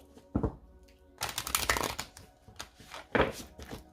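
Oracle cards being shuffled and drawn, heard as a short riffle, a longer burst of rapid papery flutters, then another quick shuffle and soft slides of cards. It is close and fairly quiet, with no talking.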